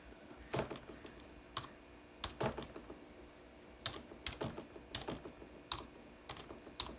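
A new router password is typed on a computer keyboard: scattered clusters of crisp key clicks with pauses between bursts, close and quiet.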